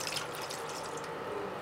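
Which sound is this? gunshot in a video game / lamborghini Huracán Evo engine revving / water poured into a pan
water poured into a pan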